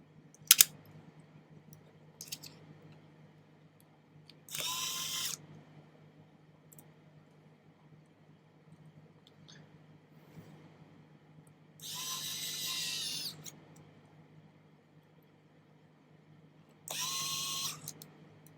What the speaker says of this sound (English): Work our way around the computer, put all the screws in.